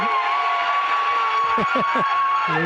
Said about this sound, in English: That'll get the crowd going, Bob.